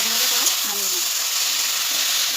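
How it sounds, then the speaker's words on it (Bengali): Taro (kochu) greens with salt and sugar frying in a pan, a steady close sizzle and hiss with a few soft stirring scrapes throughout. "ভাজা ভাজা করে নামিয়ে নেব"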